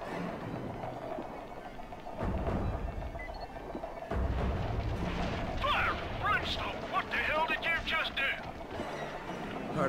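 Explosions rumble through a Dying Light game session, deep booming blasts rolling in around 2 and 4 seconds over a continuous low roar, with players talking throughout.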